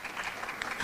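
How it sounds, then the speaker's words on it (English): An audience at a businesswomen's forum gives a short burst of scattered applause, fairly quiet and brief. "Round of applause, please, ladies, for the men who are here"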